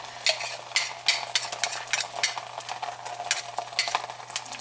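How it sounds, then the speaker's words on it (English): An egg sizzles in a hot, smoking pan while making an omelette: a steady bright crackle with scattered sharper pops over a low hum, close and moderately loud, with no talking. "the pan is starting to smoke, and it's time to introduce the egg into it"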